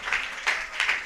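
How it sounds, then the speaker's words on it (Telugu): Church congregation clapping in three loud bursts of applause, each swelling then fading, during an anniversary service, with no voices over it. "చప్పట్లు కొట్టి వందనాలు చెప్పు నాన్న గట్టిగా"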